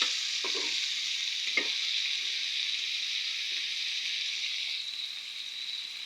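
Food frying in oil in a pan, a loud, steady, close hiss of sizzling with a couple of soft knocks early on, easing slightly toward the end.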